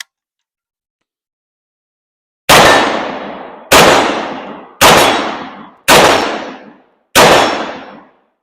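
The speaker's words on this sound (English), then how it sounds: "Then I will click the safety off and take a couple shots here." Five loud rifle shots from a Mini-14 chambered in .223, fired at a steady pace after a silent pause, each a sharp crack with a decaying ring.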